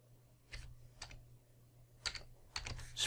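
Short bursts of clicky keystrokes on a computer keyboard with pauses between them, close and fairly quiet over low background hum.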